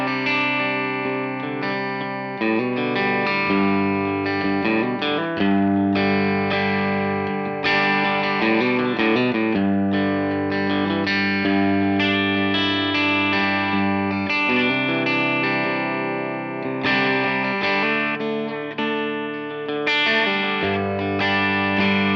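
An electric guitar played through a Line 6 Helix Stadium XL with dynamic ambience reverb and distortion, chords and riffs ringing continuously with a subtle sense of space, no talking.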